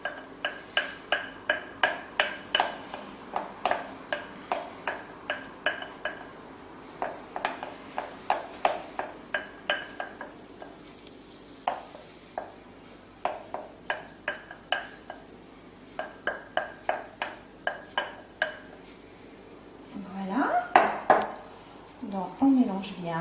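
A utensil stirs chocolate cake batter in a bowl, producing a long series of light rhythmic clinks and taps against the dish in quick clusters with short pauses, close and fairly quiet, with faint talk near the end.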